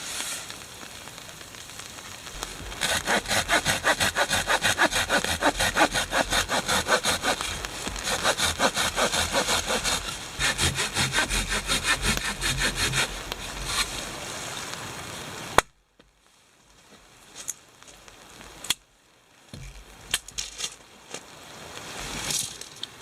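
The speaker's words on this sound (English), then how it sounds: "I really like the little Opinel saw." Small Opinel folding saw cutting through a piece of wood to make a bow-drill fireboard at a cove campsite, a steady close rasping back-and-forth rhythm for about fifteen seconds, then stopping, followed by a few faint knocks and handling sounds.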